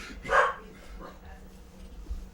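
Tink, a pet dog, lets out one sharp bark near the start, followed by softer yips and low murmurs in a quiet room.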